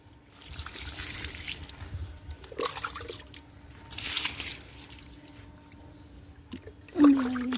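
Water from a bucket trickles and splashes onto broccoli plants in a rooftop garden, soft and close, ending in a brief louder gush.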